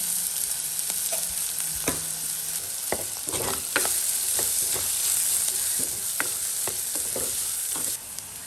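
Onion and fenugreek seeds fry in a pan with a steady, dense sizzle and occasional sharp crackles and stirring clicks, close and continuous with no talking.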